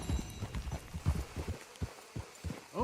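Horse hooves gallop in Red Dead Redemption 2, a steady rhythmic clip-clop of repeated low thuds close by, continuing throughout with a faint breath or snort at the end.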